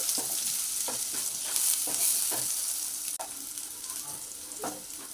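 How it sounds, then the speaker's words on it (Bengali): Steady, bright sizzling of potato chunks frying in a pan, broken by repeated scraping strokes as they are stirred and turned, with no voices. "এবারে আলুগুলো দিয়ে দিচ্ছি, আলুগুলো একটু নেড়ে ছেড়ে নেব।"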